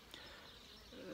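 Honey bees working actively at a hive on a sunny day, a steady faint buzzing hum that swells slightly near the end, with no voices.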